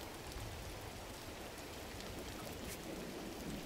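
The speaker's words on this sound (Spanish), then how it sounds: "se echa a llover." Steady, dense rain begins in the video game Gris, a continuous hiss of falling drops with no other sounds and a soft, even level throughout.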